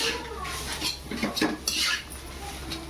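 Spiced potato filling for vada roasting in a pan while a metal spatula scrapes and clatters against it, brief busy stirring up close over a faint sizzle, no voices.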